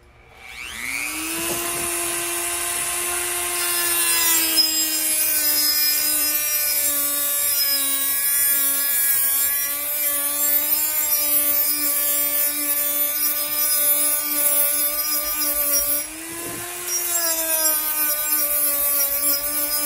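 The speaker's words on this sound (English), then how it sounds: "I like this here, this rotary sanding disc arrangement." A DEPSTECH DM180 rotary tool fitted with a rotary sanding disc grinds against wood, a steady high-pitched whine that dips in pitch under load near the start and again later, loud and continuous without talk.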